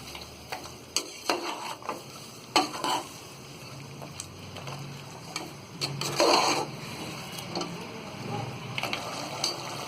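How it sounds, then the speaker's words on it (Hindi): Mutton with onion and ginger-garlic paste is stirred and roasted in a pan on full flame, giving a steady low sizzle with intermittent scraping clicks of a spoon. "अब इन सारी चीजों को हम अच्छी तरह भून लेंगे।"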